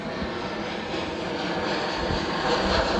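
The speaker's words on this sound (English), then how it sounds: "Oh, look, a plane." Airplane passing overhead on the approach path near Glasgow Airport, a broad steady engine roar that slowly grows louder across the clip with no talking.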